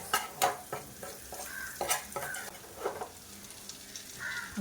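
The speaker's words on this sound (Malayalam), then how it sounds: "അപ്പോൾ അതിന് ഉള്ളി നന്നായിട്ട് മൊരിഞ്ഞ് വന്നിട്ടുണ്ട്." Onions fry in a pan for a Kerala fish curry, a soft steady sizzle broken by several scraping stirs and light clinks of a utensil against the pan, quiet and close.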